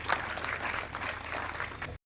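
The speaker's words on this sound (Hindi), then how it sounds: "तो जोरदार तालियां हो जाए सर के लिए" An audience applauds a guest speaker at an event, a soft steady patter of clapping that stops abruptly at the end.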